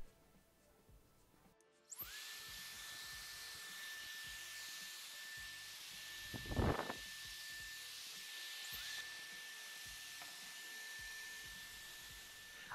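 A small high-speed brushless motor of the kind used in Dyson-style hair dryers, driven by its own controller, spins up with a high steady whine and hiss that runs alone for about ten seconds after a brief burst.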